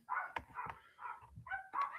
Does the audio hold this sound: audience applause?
no